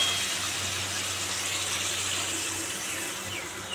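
Water pours steadily and quietly in a home, a continuous soft rushing stream that runs without break and without talk.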